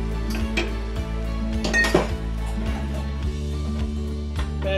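Vermicelli noodles with chicken and prawns are tossed in a pan over a low flame, with repeated utensil clinks and scrapes against the metal close by over a steady background hum.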